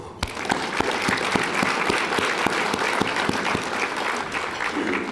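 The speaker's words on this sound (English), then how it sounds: "let us give this year's honorees another round of applause" An audience at an awards presentation applauds this year's honorees, dense sustained clapping from many hands with a few sharper claps standing out, filling the room steadily for several seconds.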